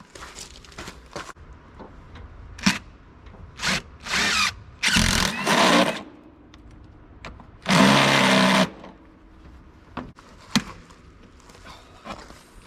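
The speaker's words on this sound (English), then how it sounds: "I'm just gonna drill a hole and see where it goes." A power drill fitted with a spade bit bores a hole into a Mahindra 1626 tractor, running in several loud whirring bursts of a second or so, separated by clicks, knocks and quieter handling noise.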